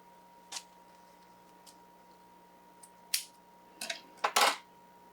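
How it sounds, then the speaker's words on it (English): Scissors cut strands for a back-to-school teacher gift, a few sparse, crisp snips close by in a quiet room, growing more frequent toward the end. "So I'm just going to cut it at 12 inches."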